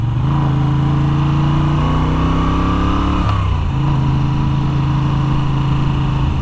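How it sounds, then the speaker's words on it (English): A 2021 Moto Guzzi V7 850 motorcycle fitted with a Mistral exhaust runs close by. The engine climbs through the gears with a throaty drone, eases off around the midpoint, then settles into a steady, loud cruise with no talking. "I am still loving the Mistral exhaust."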